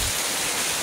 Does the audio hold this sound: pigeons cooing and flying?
no